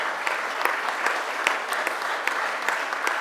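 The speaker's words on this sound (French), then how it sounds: "vous avez le droit de vous applaudir, puisque ce sont vos joueurs sur le terrain qui le méritent" Audience at a fair-play trophy ceremony for amateur football clubs in Alsace applauding steadily, a dense wash of clapping with scattered sharper claps, fairly close and continuous throughout.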